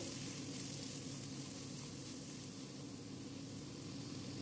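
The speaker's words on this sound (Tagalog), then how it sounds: "Sunod naman na ilagay ang sibuyas at igisa hanggang lumambot." Onion sautéing in a pan for a mango and chicken dish, a continuous, even sizzle and crackle of frying that holds steady throughout with no voices.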